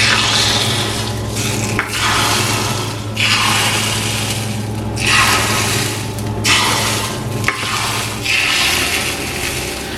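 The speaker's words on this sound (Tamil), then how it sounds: "இந்த முட்டையை வந்து இதுக்குள்ள விடுவோம்." Beaten egg is poured into a pan while making Sri Lankan fried egg curry, giving close, repeated swishing, liquid pours in several bursts over ten seconds, with no voices.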